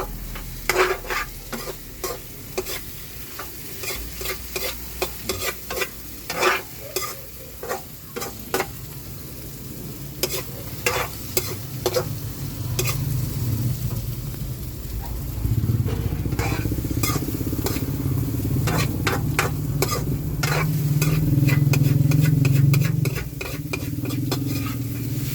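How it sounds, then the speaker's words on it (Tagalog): Eggs fry in a pan with a steady sizzle, while a utensil scrapes and clacks against the pan in irregular bursts, close and clear; the sizzle grows louder in the second half. "Lutuin lang natin yung itlog."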